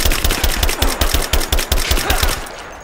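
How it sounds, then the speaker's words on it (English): Rapid automatic gunfire in Rise of the Tomb Raider during a prison escape, a loud steady burst of about a dozen shots in quick rhythm, close and cutting off at the end, with no talk. "I'm taking fire! She's reloading! Shoot her!"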